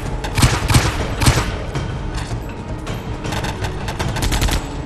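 A battle scene in a Chinese special-forces TV drama erupts with loud, rapid machine-gun fire and overlapping gunshots, densest early on and continuing in rattling bursts throughout.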